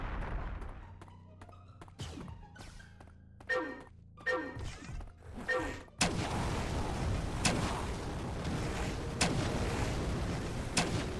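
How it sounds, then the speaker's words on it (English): In the video game Turok 3, grenades go off in a series of sharp bangs with ringing tails, then a dense stretch of louder blasts and rumbling follows without any talking. "do you just throw infinite grenades back to back?"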